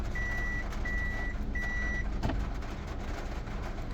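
Three evenly spaced electronic reverse warning beeps from a 2021 Toyota Voxy fitted with an aftermarket Android head unit and reverse camera, each beep about half a second long, clear over a low, steady engine hum.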